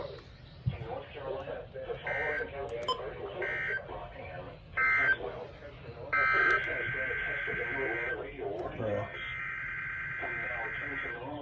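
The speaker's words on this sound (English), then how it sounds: "This has been a test of the NOAA Weather Radio warning device." A NOAA Weather Radio alert tone, part of an emergency alert system test broadcast, sounds in repeated steady bursts and then a longer sustained tone, mixed with broadcast talk throughout.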